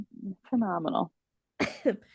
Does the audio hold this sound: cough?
yes